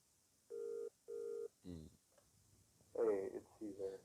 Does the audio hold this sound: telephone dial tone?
yes